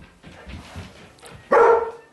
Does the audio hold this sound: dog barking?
yes